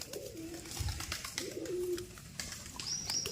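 Pigeons, including a young bird, feed on soaked wheat grain and give two clear, close, rolling coos a second apart, with small chirps and light rustling around them.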